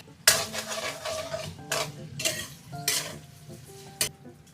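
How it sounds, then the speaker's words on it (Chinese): Cured pork sizzles in a wok in a Sichuan-style home kitchen while a metal spatula stirs and scrapes, with several sharp clanks against the pan over a soft frying hiss. "腊肉熬一下"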